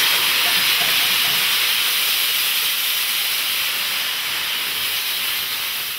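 Steam hissing steadily from an NG16 Garratt narrow-gauge steam locomotive built in 1967-68, a continuous loud broadband rush with no talk.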